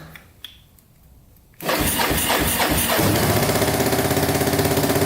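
Kawasaki KLT 250 three-wheeler with choke on: after a quiet lead-in, its engine catches at once and settles into a loud, steady, throbbing idle up close.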